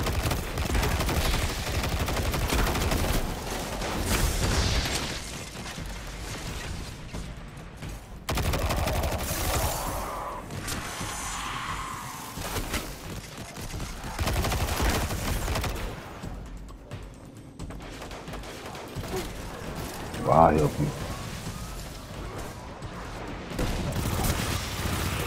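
Gunfire in the video game Destiny 2, bursts of rapid shots and louder booms coming in waves throughout, some close and heavy, others thinner and more distant, with short lulls between.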